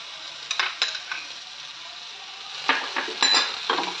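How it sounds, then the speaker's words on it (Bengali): A spoon scrapes and clinks against a pan while Maggi noodles with vegetables and spices are stirred, with a faint sizzle underneath and irregular bursts of stirring. "ভালো করে মিশিয়ে নেব ম্যাগির সঙ্গে মশলা সবজি"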